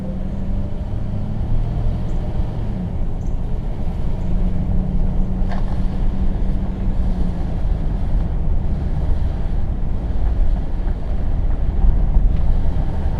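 A 1960 Pontiac is driven along with the camera held outside the window, giving a steady low engine and road rumble mixed with heavy wind buffeting that grows slightly louder toward the end, with no voices.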